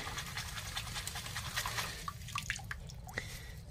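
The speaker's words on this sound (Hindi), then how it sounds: "अब इसको हम धोते हैं पानी में" Water splashes and drips steadily as a fungus-diseased potato plant is rinsed, a close, continuous wet sloshing with no talking.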